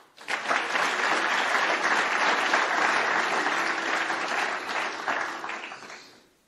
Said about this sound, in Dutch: Graag een hartelijk applaus voor Tim van Hattem.